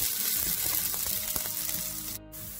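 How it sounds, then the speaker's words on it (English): Mustard seeds splutter and sliced coconut fries in hot oil, a steady sizzle dotted with small pops and a few soft stirring knocks, close by and without talk, briefly dipping near the end. "After the mustard splutters, add 2 tablespoons of sliced coconut"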